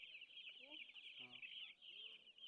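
Roosters at a poultry shop give a few short clucks and a brief cackle, faint and mid-distance under a steady high-pitched hiss, with bits of nearby talk.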